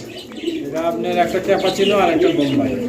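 Soft, repeated cooing from Bombai and Cappuccino pigeons close by at a pigeon sale, low burbling calls with a person talking over them.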